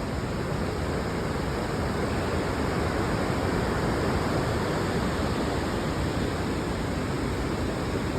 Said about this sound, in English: Natural stream of water.